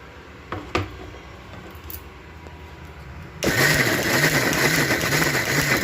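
A kitchen mixer grinder (mixie) blending saag with added water starts abruptly and runs loud and steady with a pulsing churn, after a quieter stretch of faint handling noises.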